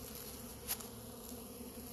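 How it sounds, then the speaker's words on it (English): Bees swarm around beehives at an apiary in March, producing a steady low drone of buzzing wings throughout, with one insect briefly passing close by. "There's just bees everywhere."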